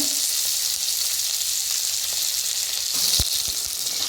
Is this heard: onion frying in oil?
yes